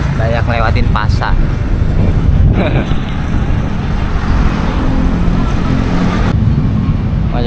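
Dense, congested road traffic at Parung Kuda near a busy market on a long-holiday weekend, heard from a motorcycle as a steady loud roar of engines and road noise, with a person talking over it throughout.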